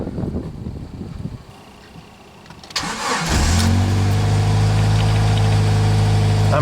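A Jeep that had a no-spark, no-start fault cranks briefly and fires up, settling into a loud, steady close-up idle after a quieter stretch of background noise.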